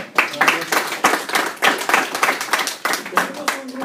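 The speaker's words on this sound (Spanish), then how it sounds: "otro aplauso al doctor" A small audience at an aerospace agency talk claps for the doctor with distinct, close hand claps in uneven bursts, while some talking runs faintly beneath the clapping.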